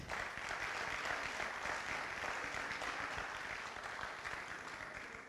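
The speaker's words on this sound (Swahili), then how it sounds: "Tuwapigieni tena makofi." A steady, continuous round of audience applause fills a music launch event after a traveling theater performance, sounding soft and somewhat distant throughout.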